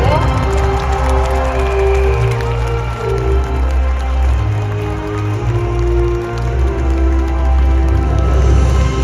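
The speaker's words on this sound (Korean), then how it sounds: "큰 박수로 맞이해주세요" An audience at the Busan International Film Festival greets Chow Yun-fat and fellow guests on stage with loud, sustained applause and cheering, a continuous roar of clapping over low, steady tones.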